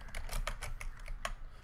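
Quick keystrokes on a computer keyboard, several crisp clicks in an uneven rhythm over a low background hum, entering a short NumPy command.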